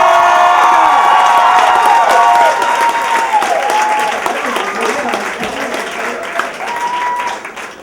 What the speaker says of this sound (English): I think she needs a louder round of applause.